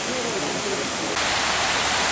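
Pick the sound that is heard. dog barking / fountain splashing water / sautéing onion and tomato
fountain splashing water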